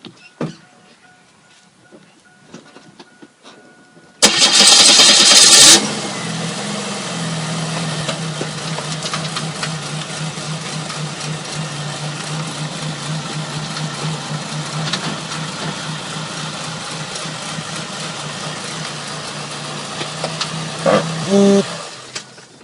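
A car engine cranks and fires with a loud burst, then idles and runs steadily for a long stretch while the car drives over a Kingston SSD, ending with a brief rise near the end.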